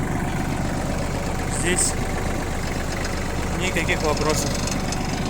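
Japanese tractor with a front loader and sheaf grab, diesel engine idling steadily at about 1000 rpm, a constant low rumble with slight knocking under a man's speech.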